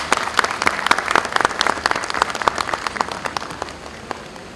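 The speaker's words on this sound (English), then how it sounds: "May we have a big round of applause for our chief guest." An audience at an international conference applauds the chief guest, a dense round of clapping that holds steady and then thins slightly toward the end, with no voices over it.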